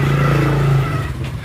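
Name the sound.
scooter passing by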